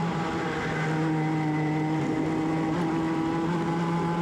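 A Sprint 60 racing kart engine at Whilton Mill, a steady loud buzzing drone held close throughout with a slight shift in pitch partway through.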